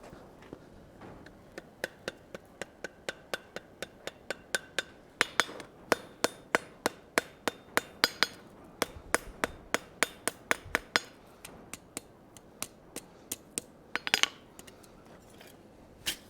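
Hammer blows strike hot steel on an anvil while forging a colonial-style trivet, a long run of sharp, ringing metallic strikes at a steady working rhythm, with brief pauses between bursts.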